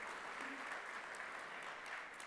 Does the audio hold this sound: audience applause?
yes